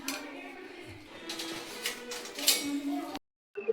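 Chilli and pepper powder get stirred together in a bowl, with soft scraping and light clinks of a spoon against the dish, close by, under a person talking throughout, then a brief silence near the end.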